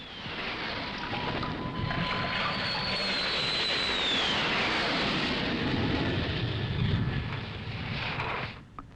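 Roar of aircraft flying overhead during wartime bombing in Vietnam, a loud continuous rumbling rush that holds steady for several seconds with a slowly shifting whine, then cuts off sharply at the end.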